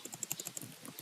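A search is typed on a computer keyboard: a quick, close burst of about a dozen light clicking keystrokes in an even rhythm, with no talk over it.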